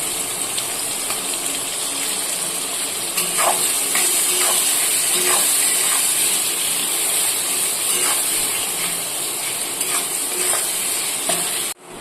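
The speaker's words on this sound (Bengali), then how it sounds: "এবার দিয়ে দিচ্ছি পেঁয়াজ কুচিটা।" Chopped onion sizzles and fries loudly in hot oil with dried red chilli, bay leaf, garam masala and cumin, a steady bright hiss with occasional stirring clinks throughout.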